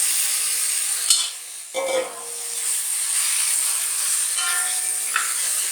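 Chicken pieces going into ginger sauce in a hot pan for pepper chicken: a loud, continuous bright sizzle, briefly dipping and then surging with a thump as the chicken drops in, before settling back into steady hissing.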